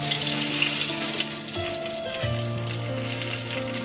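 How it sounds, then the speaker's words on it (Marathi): Mustard seeds fry in hot oil with a loud, steady sizzle and crackle that fills the whole stretch, close and continuous, with no talking over it. "आपलं तेल कढलेलं आहे, त्यात मोहरी टाकून घेऊ"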